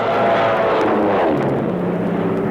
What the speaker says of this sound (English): Up and away flies the Man of Steel to catch the tumbling plane on his harder-than-steel shoulders without a wince.